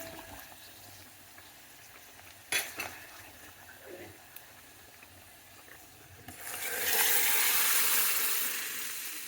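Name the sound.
tempering (popu) being fried for spinach dal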